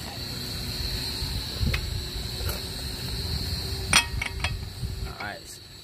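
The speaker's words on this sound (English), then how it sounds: "You're gonna use these dykes to take off this pin right here." Side cutters work the pin loose from the axle nut on a 2002-2006 Nissan Altima, giving a few quiet, sharp metallic clicks and snips spaced apart over a low background hum.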